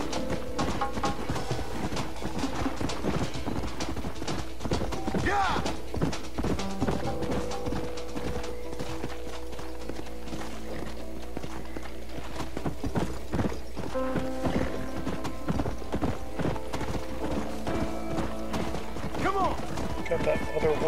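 Horse hooves clip-clop at a steady galloping rhythm while riding in Red Dead Redemption, close and continuous for the whole stretch, with game music and someone talking over the sound.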